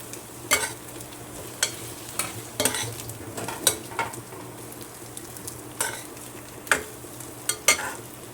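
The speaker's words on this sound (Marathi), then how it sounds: "आता आपण मिरच्या घालायचे थोडंसं परतून घ्यायचं" Kashmiri red chillies being sautéed in a roasted masala in a pan, a steady sizzle broken by repeated sharp scrapes and clinks of a stirring spoon, close and fairly loud, with no talk.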